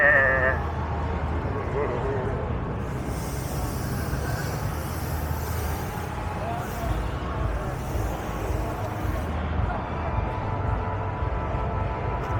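A carry-around goat puppet at a Halloween trade show lets out repeated bleats in a busy, noisy hall, with people talking throughout and a steady rumble of background noise underneath.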